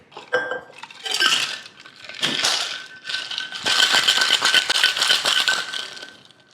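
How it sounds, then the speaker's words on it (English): Bourbon cocktail with ice rattling hard inside a shaker, a close, busy run of clinking and rattling bursts that builds into steady vigorous shaking. "We're gonna add our ice. And then just shake it up."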